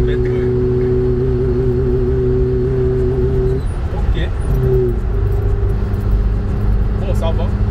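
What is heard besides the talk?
Chinese car driving at 60 km/h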